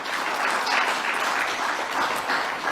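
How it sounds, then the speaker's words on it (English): An audience applauds steadily at a football confederation presidential manifesto launch, the dense, even clapping sustained throughout without a pause. "And can I just ask you that we clap hands?"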